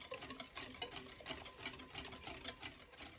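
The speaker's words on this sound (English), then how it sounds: "gradually stir it in until everything is well incorporated in there" A spoon or whisk stirs pumpkin pie filling in a bowl, a quiet, fast, rhythmic scraping and tapping that repeats steadily, with no talking.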